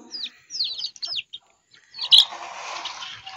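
Small chicks chirp in quick, high-pitched bursts, close and clear, then a louder flutter and rustle takes over.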